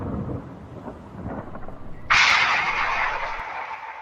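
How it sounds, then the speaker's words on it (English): Thunder from a thunderstorm: a low distant rumble builds, then a sudden loud crack breaks into a sustained hissing roar of rain and thunder that slowly fades. "Just what I need, a thunderstorm."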